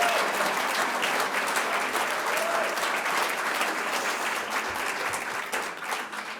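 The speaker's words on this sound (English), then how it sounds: "I just want to give him a round of applause" Sustained audience applause at an awards ceremony for a conference, dense steady clapping filling the room at a constant level throughout, tapering only slightly near the end.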